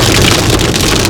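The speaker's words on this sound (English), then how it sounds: "We're getting into the heavier rain now." Heavy rain drums hard and close on a moving car during a road trip, a dense, loud, unbroken wash of spatter.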